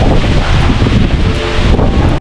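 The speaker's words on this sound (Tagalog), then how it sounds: "Lakas ng hangin dito." Strong wind roars and buffets the microphone near a river, a dense, loud, continuous rush that does not let up, with no voices.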